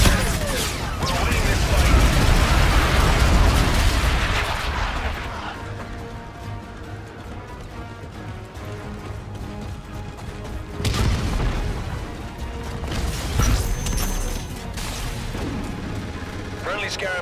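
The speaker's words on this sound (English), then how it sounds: "Enemy bombardment incoming." Enemy bombardment in Call of Duty: Infinite Warfare deathmatch, a run of deep booming explosions and crashing blasts with a lull between, loud and close, with a game voice speaking over the barrage.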